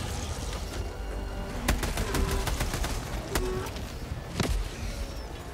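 Heavy machine gun firing in the video game Helldivers 2: irregular bursts of sharp, rapid shots cut through steady combat noise, with clusters of reports bunched together and a few isolated cracks later on.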